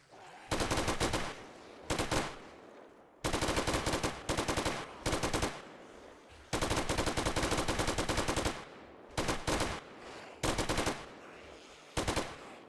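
An endgame light machine gun fires in a modded 7 Days to Die game, loud close bursts of rapid automatic fire, some long and sustained, others short, split by brief silent gaps.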